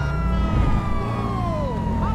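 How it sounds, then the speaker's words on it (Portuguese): A wailing siren sweeps up and down over a low engine drone, loud and continuous, with a smoothly gliding electronic tone. "Ligar a sirene, porque senão o bagulho aqui é frenético."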